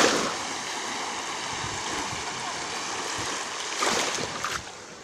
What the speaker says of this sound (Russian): Ни ветерка, тихо, а волны плещутся.